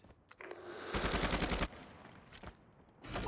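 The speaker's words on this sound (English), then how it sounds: "Sentry gun deployed." A sentry gun fires in Call of Duty: Mobile, loosing a rapid, loud burst of automatic shots in the middle, with a brief shorter burst near the end and quieter game noise between.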